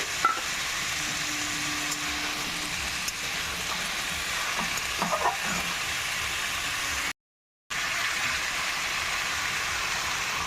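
Potatoes and tomatoes stirred and fried in a pan for a plain white potato curry: an even, loud frying hiss with a few faint stirring taps and one brief dropout to silence.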